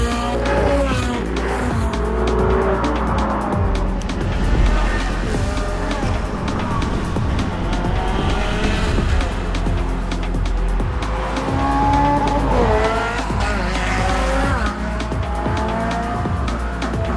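Ferrari sports cars, among them a 360 Challenge Stradale, 430 Scuderia and 458 Speciale, race ahead on a track, their engines a loud continuous roar with shifting pitch as they rev up and change gear.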